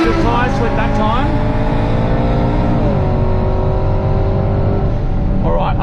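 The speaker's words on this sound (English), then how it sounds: "Golf R versus Audi R8 V10." A Golf R and an Audi R8 V10 race down a quarter-mile drag strip, loud engines droning and shifting in steady rising and falling tones, heard close with a voice talking over the noise.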